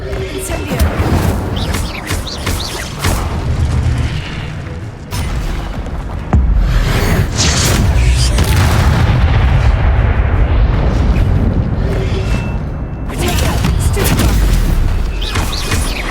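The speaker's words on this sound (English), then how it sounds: "Incendio!" Fire spell blasts in the Hogwarts Legacy video game erupt as a series of loud booming explosions with crackling bursts, dense and continuous, with brief speech mixed in.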